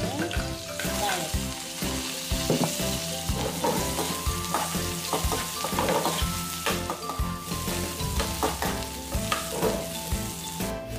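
Garlic sautéing in coconut oil in a pan, a steady close sizzle and crackle with occasional stirring scrapes and clinks throughout, no talking.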